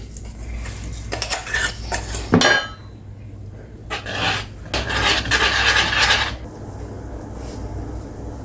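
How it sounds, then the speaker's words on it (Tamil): Ground black cumin and curry leaf paste being stirred into hot oil, with loud rasping scrapes of a utensil against the pan in bursts, separated by quieter sizzling. "அரைச்ச பொருளை வந்து இதில் போட்டுக்கிறோம்."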